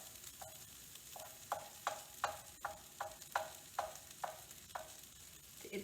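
A potato, onion and pepper mixture sizzles in a frying pan while a spatula pushes it aside, with about ten scraping strokes in a steady rhythm over a constant low fry hiss, close and moderately loud.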